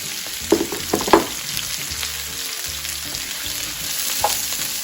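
Vegetables and onion sizzle steadily in hot olive oil, a constant close hiss with a few sharper clatters early on as they are tipped in and stirred around the pan.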